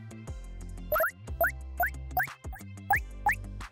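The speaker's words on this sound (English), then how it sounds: "when you pick up one of these points, it plays the sound at that pitch" A GDevelop video game plays a run of six bouncy point-pickup blips over a low synth bass line, each chirp sweeping upward in pitch in a quick, playful rhythm.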